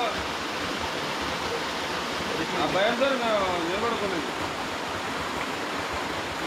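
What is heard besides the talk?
Kapartheeswara Kona hidden waterfall flowing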